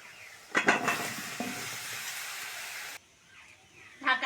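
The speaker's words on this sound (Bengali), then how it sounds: "কড়ার মধ্যে অল্প করে জল দিয়ে দেবো এবার ধুয়ে রাখা আমলকিগুলো দিয়ে দেবো" Washed amla gooseberries drop into a little water in a hot kadai, bringing a close, splashy hiss and sizzle that holds steadily for a few seconds before dropping away to near quiet.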